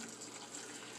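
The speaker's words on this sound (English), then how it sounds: "I'm going to pour it in here right into the filter" Stove top coffee pouring steadily from a pot into a paper filter, a continuous close liquid trickle and splash lasting about a second with no talking.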